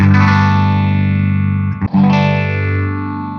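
Electric guitar through a Fender Tone Master amp modeller, a distorted sustained chord ringing loud and close, cut by a brief dropout before swelling back.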